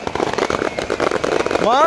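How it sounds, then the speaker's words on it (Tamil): Firecrackers burst repeatedly at a Catholic festival in Jaffna, sharp cracks close by and overlapping with excited talk, ending in a rising whistle-like streak. "கனநேரமா வெடிச்சு கொண்டு இருக்குது வேறங்க இந்த வெடி"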